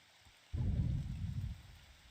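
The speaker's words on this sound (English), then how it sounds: "Wonderful that it started raining." Rain beginning to fall in the video game Morrowind, a steady low rushing hiss that sets in abruptly and carries on evenly, fairly loud with no other sounds over it.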